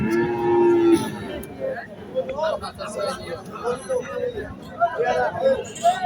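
A Sahiwal bull calf and other cattle at a livestock market in Setabganj, Dinajpur: one clear, loud moo opens the clip, then fainter lowing sounds amid the murmur of people talking nearby.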